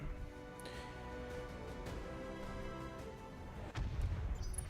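Battletech weapons fire sounds as scattered distant thuds under a steady hum, ending in one heavier, louder boom near the end.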